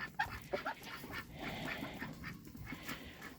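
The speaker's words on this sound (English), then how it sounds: "There's the ducks." Faint ducks quack a few times against a steady outdoor background hum, distant and soft.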